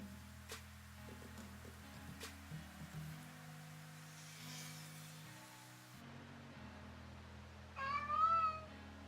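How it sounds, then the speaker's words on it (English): A single cat meow rises briefly near the end, fairly faint, over a quiet room with low electrical hum and a few soft clicks. "Did you hear my cat?"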